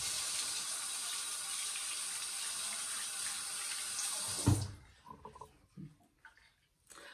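A tap runs steadily into a sink to wet a makeup brush, with a constant splashing stream that stops abruptly partway through, leaving a few soft knocks and handling sounds.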